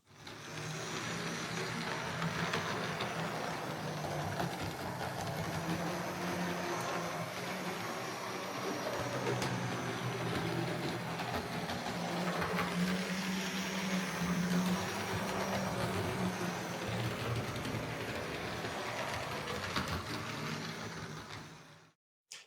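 Model railway locomotives run along the track with a continuous, moderately quiet whirring motor hum and wheel rumble that holds steady for about twenty seconds before cutting off abruptly.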